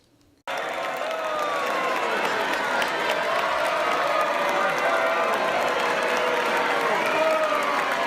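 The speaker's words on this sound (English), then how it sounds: "Pence, he was booed by many of his fellow theater goers" A theater audience at a Hamilton performance reacts loudly to Mike Pence, a dense, sustained roar of crowd noise with applause, cheering and mixed jeers that begins abruptly and stays steady throughout, with no clear words.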